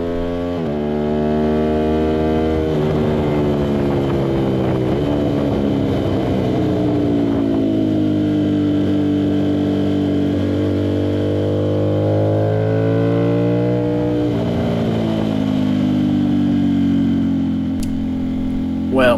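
An Aprilia RS660 sport motorcycle fitted with a CRT exhaust, ridden on track at Barber Motorsports Park, loud and close throughout, its engine note climbing and dropping through gear changes with repeated rising revs and short lifts off the throttle.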